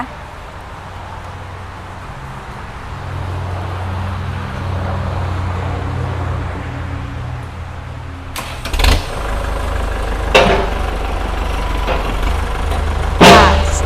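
A used L5018 tractor's diesel engine on test, a low steady rumble that jumps into a louder, rougher run partway through, with a few sharp knocks, close by and no talking.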